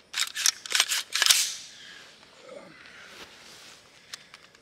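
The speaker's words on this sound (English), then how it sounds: "That trigger, let's show you guys how that trigger operates here." Trigger of an empty, safe Daniel Defense DDM4V7 rifle being worked: a quick burst of crisp, close mechanical clicks and snaps, then a few fainter isolated clicks over quiet room tone.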